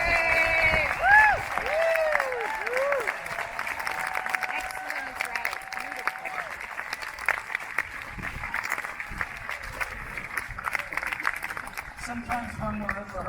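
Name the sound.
applause for a young symphonic band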